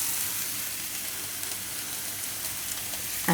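Grated potato for masoor paratha sizzles steadily in a pan over a low gas flame, a close, continuous hiss with no voices.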